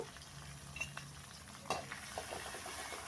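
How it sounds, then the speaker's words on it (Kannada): Onions fry in a pan for a vitamin greens palya, giving a soft, steady close sizzle with a few light stirring taps. "ಈರುಳ್ಳಿ ಒಂದು ಸ್ವಲ್ಪ ಸ್ವಲ್ಪ ಕಲರ್ ಚೇಂಜ್ ಆಗೋ ತನಕ ಹುರ್ಕೊಳ್ಬೇಕು"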